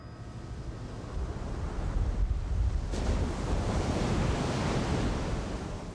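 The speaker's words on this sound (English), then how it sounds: "This is the mouth of the Rogue River." Ocean surf rolls in at the mouth of the Rogue River on the Oregon coast, a steady broad roar of breaking waves that swells and holds, with wind buffeting the microphone and no voices.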